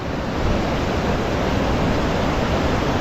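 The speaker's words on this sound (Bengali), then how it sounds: "ওই যে পাহাড় থেকে জলটা আসছে" Water pouring down a mountainside at Sonmarg, Kashmir, a dense continuous rushing roar that stays loud and even throughout, with no voices.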